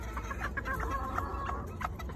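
Hens cluck softly in a pen near a splash rooster crossing, a busy scatter of short calls over a low background hum, no talking.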